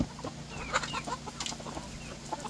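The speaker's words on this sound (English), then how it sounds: "Rooster fighting." Roosters fighting, squawking and clucking in short, agitated bursts with scuffling noises, fairly faint and irregular.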